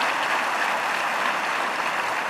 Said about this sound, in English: Please give a big round of applause to teams Vashishta and team Angirasa